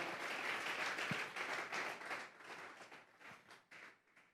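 A church congregation breaks into applause, a dense round of clapping that swells at first, then thins and fades out.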